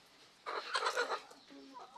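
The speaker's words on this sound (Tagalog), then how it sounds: "Tsaka sobrang bait ng mga manok na to." Four-month-old Rhode Island Red chickens cluck in a short burst of close, overlapping calls, followed by softer, lower clucks.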